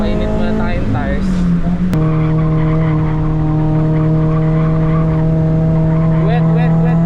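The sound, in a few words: car spinning tyres to warm them up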